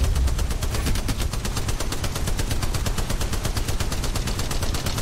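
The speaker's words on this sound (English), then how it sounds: "Opening fire." Rapid automatic gunfire from a weapon in Apex Legends Mobile, a dense, loud stream of evenly spaced shots filling the whole span without pause.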